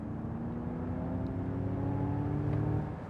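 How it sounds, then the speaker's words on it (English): A 2024 Ford Mustang Mach-E electric car launching hard from a standstill with brake boost, giving a steady rising electric whine and road roar heard from inside the cabin, continuous for the whole stretch. "again, brake boost launching it"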